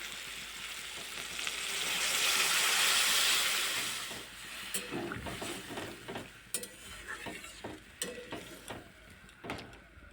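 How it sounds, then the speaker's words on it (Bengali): Fried potatoes and teasel gourd are stirred in a sizzling pan. A rising, hissing fry gives way to repeated close scrapes and clinks of the spoon against the pan. "ভেজে রাখা আলু কাঁকরোলটা দিয়ে একটু নাড়াচাড়া করে ভালো করে একসঙ্গে মিলিয়ে নেব"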